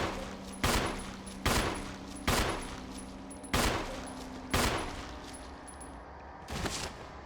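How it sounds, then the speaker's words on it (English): Jill fires at an enemy in the Resident Evil Remake video game: six sharp gunshots at irregular intervals of roughly a second, each cracking out over a low, steady game ambience. "Jill automatically aims this way to shoot it"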